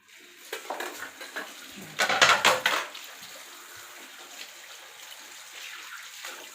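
A ginger mixture for a lemon ginger honey drink being stirred with a spoon, close clinks and scrapes against a container, loudest in a short burst midway, then softer stirring and faint liquid sounds.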